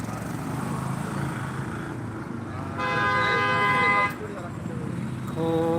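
Traffic jam in Mirajgaon, Maharashtra: a steady rumble of vehicles broken by a long, loud horn blast midway and a second honk near the end, with people talking over the din.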